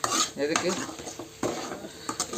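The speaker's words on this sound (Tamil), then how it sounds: "அடுத்து தக்காளி போட்டிருக்கேன்." Tomatoes for a mutton curry are stirred in a cooking pan, with repeated metal scrapes and clinks of a spoon against the vessel over a light sizzle, close and fairly loud.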